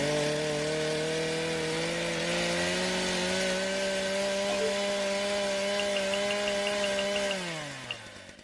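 A chainsaw ability in the video game Blockade Battlefront whines in a loud, steady drone at high pitch, then winds down toward the end.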